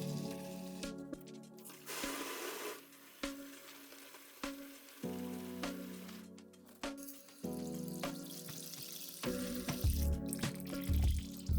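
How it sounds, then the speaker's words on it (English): Water run through a faucet supply line in a bathroom to flush out debris, hissing and spattering into a sink in uneven bursts that stop and restart, with some clunks in between, close by. "Running water through the line before connecting them to the faucet is a good way to flush out any debris."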